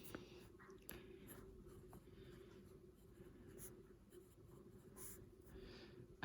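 A TWSBI Eco fountain pen with a broad nib writes across notebook paper, giving a soft, close, continuous scratching with brief pauses between strokes.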